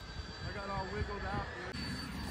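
A small airplane engine holds a steady, loud drone under power through a wingover turn, with a brief dip near the end.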